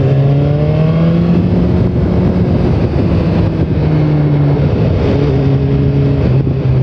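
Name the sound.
2015 BMW S1000R motorcycle engine revving while riding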